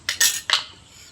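A metal spoon clinks against a pot or bowl while adding sugar during home cooking, three quick bright taps in close succession, near and without talk.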